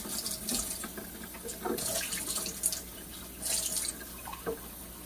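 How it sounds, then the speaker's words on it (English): Tap water runs into a cooking pot, a steady hissing splash with drips and light clinks of the pot, continuous and close, with no one talking. "I am going to go ahead and fill my pot up with some water"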